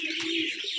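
Giribaz pigeons at a fancier's loft in Rajshahi give a low, steady coo, close and moderately loud, over faint background hiss.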